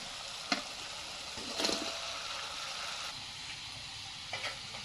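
Fried mrigal fish heads sizzle in spice masala with salt, a faint, steady frying hiss broken by a few brief scraping stirs.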